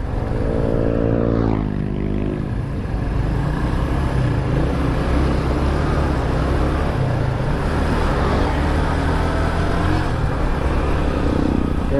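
Continuous road traffic on a highway with a bypass under construction nearby, heard as a loud, steady roar of engines and tires, with a vehicle sweeping past early on.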